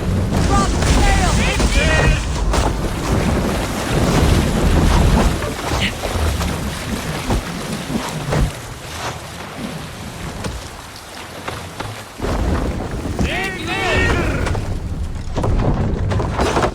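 Sailing ship in a strong wind in Assassin's Creed Valhalla, with loud, steady rushing wind and water noise throughout and voices shouting orders over it.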